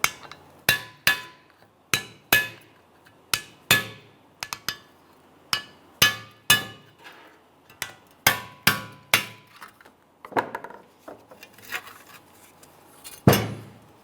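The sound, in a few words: hammer and chisel knocking off backing plate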